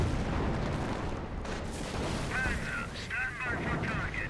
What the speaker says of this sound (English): Does throw some grenades there